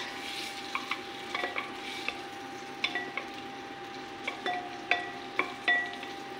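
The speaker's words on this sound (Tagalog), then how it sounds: "Tapos lagay natin yung hipon. I-fry natin siya kaunti." Shrimp fry in butter in a pan, giving a soft, steady sizzle broken by scattered utensil scrapes and taps as they are stirred close by, with no talk.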